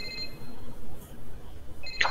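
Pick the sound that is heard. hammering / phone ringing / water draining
phone ringing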